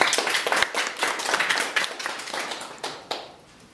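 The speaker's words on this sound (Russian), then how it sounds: "Здесь должен быть аплодисмент" A small group of people clap by hand in a room. The claps are quick, sharp and somewhat uneven, with individual slaps standing out, and they thin out and fade near the end.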